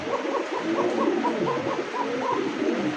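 A female pigeon coos in soft, repeated rolling calls, a steady series of close, moderate coos over a constant background hum.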